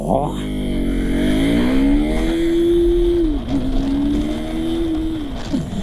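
A KTM Duke 390 motorcycle launching hard from a standstill, its engine note climbing steeply in pitch, briefly dipping at a gear change, then pulling strongly again, loud and close.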